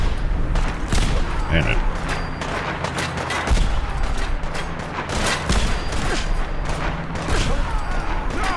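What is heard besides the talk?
gunfire in the video game Fallout 4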